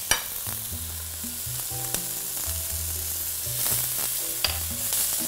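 Chopped onion and garlic fry in oil in a hot pan over high heat, a steady loud sizzle with occasional utensil taps and stirring scrapes, no voices.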